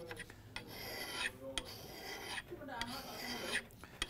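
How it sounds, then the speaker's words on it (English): A high-speed steel tool bit is ground against a grinding wheel in repeated rasping passes, each stroke a short hissing scrape separated by brief pauses, fairly close. "It's actually amazing that we can grind these high-speed tool bits"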